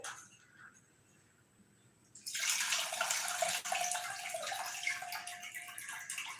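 Old rice grains being washed in water, with a quiet start giving way after about two seconds to a steady, fairly loud rush of splashing and trickling water that continues to the end, with no talking.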